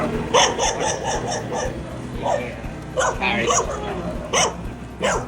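A dog barks repeatedly in short bursts in a residential area of Bella Vista, General Trias, Cavite, at night, while people talk nearby.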